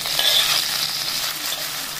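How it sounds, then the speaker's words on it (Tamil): Brinjal and mixed vegetables sauté in hot oil in a pan for kathamba sambar, giving a steady, close sizzle and crackle that holds evenly throughout with no talking. "இந்த கத்திரிக்காய், இது எல்லாத்தையும் நம்ம எண்ணெயில் போட்டு கொஞ்சம் வதக்கிக்கிறோம்."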